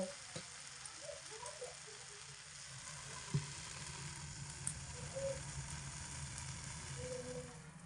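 Malabar spinach seeds fry with garlic and chili in a covered pan, a faint continuous sizzle with a few light taps and a sharp click as the lid shifts and the mix is stirred; no voices.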